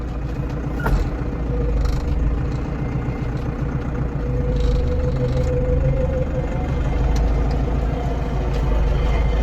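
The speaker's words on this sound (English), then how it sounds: "Got no brakes in the tractor. Reverse." A tractor with no brakes runs while reversing, giving a steady, low, rumbling engine note that holds at an even idle-like level, with faint knocks over it.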